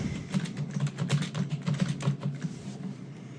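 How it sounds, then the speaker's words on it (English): Someone typing a name on a computer keyboard during Windows 7 setup, producing a fast, steady patter of close key clicks with no talking. "I'm going to type in a name."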